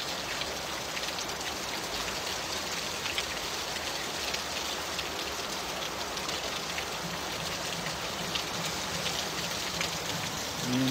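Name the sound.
heavy rain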